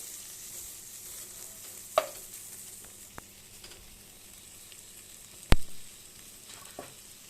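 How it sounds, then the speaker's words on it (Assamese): A brinjal and egg mixture fries quietly in a pan, a soft continuous sizzle broken by a few utensil taps and one sharp knock. "এয়া এনেদৰে মই অলপ সময় ফ্ৰাই হ'বলৈ থ'লোঁ।"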